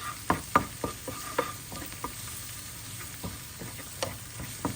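Chopped onions seasoned with a pinch of black pepper and red pepper powder fry in a pan for mussel börek filling, giving a steady low sizzle broken by scattered clicks and stirring scrapes, close and fairly quiet.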